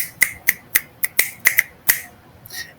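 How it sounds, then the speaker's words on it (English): A run of about nine sharp finger snaps from a group, spaced unevenly over a few seconds and fading toward a softer final snap, with no talking. "We can do snaps."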